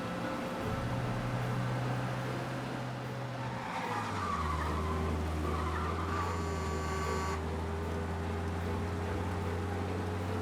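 Several cars race at speed in a police chase in the Mafia: Definitive Edition video game: a close, steady engine roar shifts pitch midway, with tires skidding and squealing over it, and no voices.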